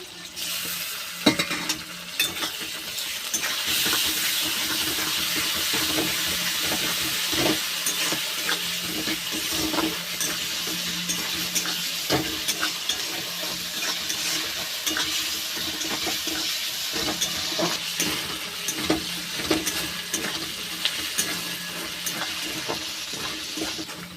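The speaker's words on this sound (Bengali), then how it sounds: "আদা রসুন পেঁয়াজ বেশ ভালো করে ভেজে নিয়েছি" Onion and ginger garlic paste fry in a pan with a steady, fairly loud sizzle, broken by frequent stirring scrapes and clinks, and no talk.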